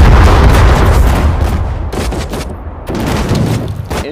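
Dense battlefield din from Sudden Strike 4 on Saipan in the Pacific War, with loud overlapping gunfire and booming explosions rumbling continuously, briefly thinning midway before surging again.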